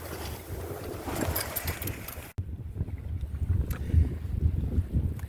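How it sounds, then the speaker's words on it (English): Wind rushes past a sailboat under sail, heard as steady gusty buffeting close to the microphone with a low rumble of water and hull, and a brief cut partway through. "We're sailing again with the wind coming in the other direction."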